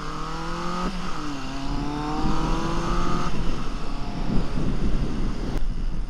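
Honda CB750F cafe racer motorcycle engine under way on the road, its steady drone climbing and dropping through gear changes, close and fairly loud with wind rushing over the microphone and no talk.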